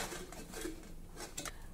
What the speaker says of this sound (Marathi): आता आपण झाकण बंद करूया